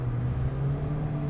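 Interior drone of a REV9 Autosport Mazda ND Miata RF driving at low speed while turning around, a steady engine hum with road rumble and no voices.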